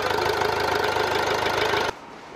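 A Volvo V60 engine with a coolant-loss problem runs at a steady, loud, close idle with a rough, knocking rumble, then cuts off abruptly near the end.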